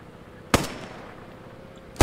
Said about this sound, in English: I'm gonna take the shot.